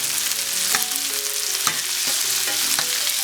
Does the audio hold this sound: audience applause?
no